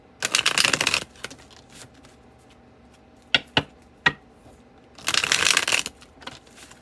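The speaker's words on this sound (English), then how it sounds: "I'm just gonna do a quick little reshuffle" A deck of cards being reshuffled up close: two quick riffle bursts of fluttering, crisp card clatter, separated by a few sharp taps and knocks of squaring the deck, with no talking.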